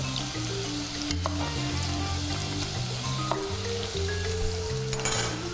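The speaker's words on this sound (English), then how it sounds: "I'm frying my mushroom off" Mushroom, coriander and onion frying in butter in a pan, a steady close crackling sizzle with occasional louder pops and stirring clinks, continuous throughout without talk.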